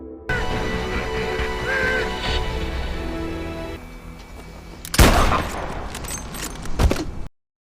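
Sharp gunshots crack out, one loud blast followed by a scattered burst of shots near the end, over a dense background of music and rumble.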